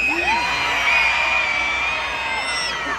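A large crowd of children at an outdoor holiday train event in Saskatoon screams at once, a loud sustained wall of high shrieks that holds steady for several seconds.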